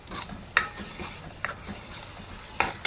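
A ground spice paste for misal is stirred and roasted in a pan, giving a low continuous sizzle broken by three sharp scraping clinks of a spoon against metal, close and without talk.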